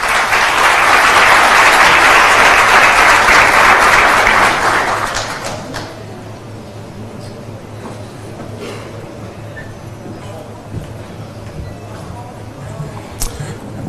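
Loud audience applause welcomes former Dominican Republic president Leonel Fernández at a CADE business conference in Panama, a dense burst lasting about five seconds before fading into quiet room ambience.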